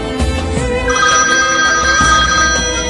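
An iPhone incoming-call ringtone plays loud and close as a continuous melodic electronic tone, uninterrupted for the whole stretch.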